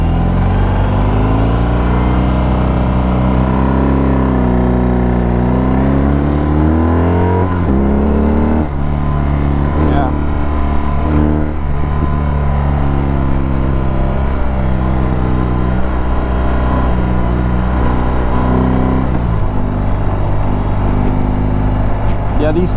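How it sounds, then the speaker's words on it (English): A 2022 BMW R 18 Transcontinental touring motorcycle engine while riding, a loud low rumbling drone that rises and falls in pitch with throttle changes, continuous and close. "These touring bikes keep the RPMs low."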